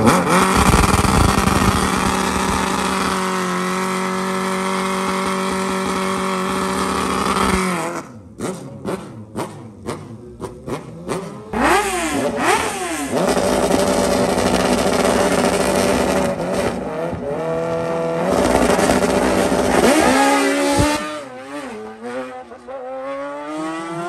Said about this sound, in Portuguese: semifinal das motos aqui